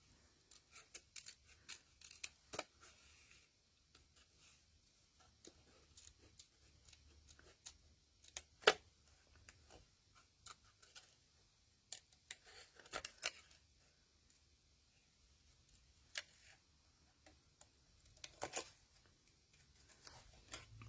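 Scissors fussy-cut around a small paper nutcracker for a handmade card, giving faint, scattered snips and paper rustles spread over a quiet stretch.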